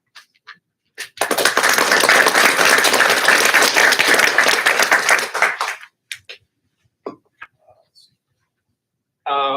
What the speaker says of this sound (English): your applause is well deserved for her.